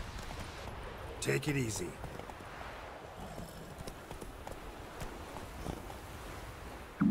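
Hooves of Roach, a horse in the video game Witcher 3, clip-clopping steadily at a walk under a voice talking, with a brief louder burst of sound early on and faint wind in the background.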